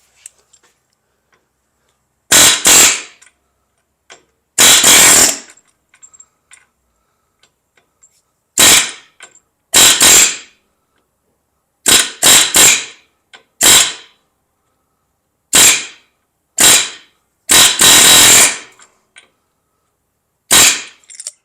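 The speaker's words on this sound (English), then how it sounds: "A little air hammer." Air hammer bursts on a 1985 Volkswagen Cabriolet, roughly a dozen loud, sharp rattling blasts lasting a fraction of a second each, set apart by silent gaps and arriving in irregular pairs and singles.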